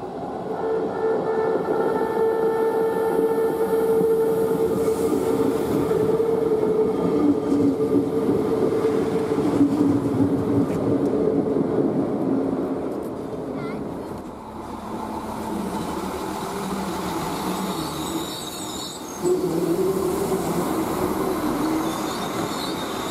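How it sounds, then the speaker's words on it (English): A Hornbæk Railway train runs its last stretch into Helsingør station, a steady loud rolling rumble with wheel and rail noise and a faint high squeal throughout, close and continuous. "we will take the Hornbæk Railway on its last leg into the Helsingør station"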